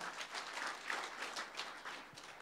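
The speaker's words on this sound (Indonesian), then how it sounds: "Beri tepuk tangan yang meriah untuk Tuhan" A church congregation applauds during a worship service, a brief dense patter of many hands clapping at moderate loudness, steady throughout with no voices over it.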